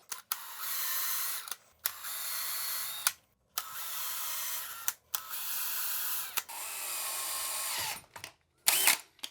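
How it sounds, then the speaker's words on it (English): A power drill pre-drills screw holes through white toilet flanges in a 1970s bathroom renovation, running in five or six close, loud whirring bursts of a second or two each, separated by short pauses. "we can take our drill bit and we can just pre-drill through the top and create a place for our new screws to go sit down"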